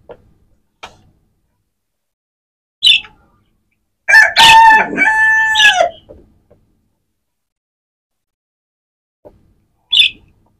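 A rooster crows once, loud and close, in a long drawn-out call, with a few short sharp clucks from chickens scattered before and after it in an otherwise quiet yard.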